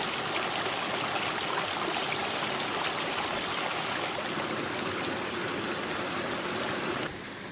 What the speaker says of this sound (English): This is Guller Creek, and we're going to fill up our waters here.